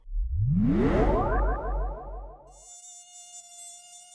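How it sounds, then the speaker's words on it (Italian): A mosquito buzzes loudly and close with a whining tone that rises in pitch, then cuts off and gives way to a thin high electronic hum. "hai sentito? Sì, una zanzara."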